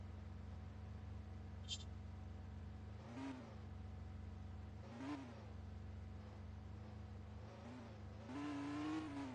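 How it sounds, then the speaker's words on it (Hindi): A Lamborghini in a video game police chase speeds away with a steady engine drone and several rising revs and whines. The last burst is loudest, over a constant low hum, with no voices. "अब भगा लो भाई, गाड़ी भगा ले"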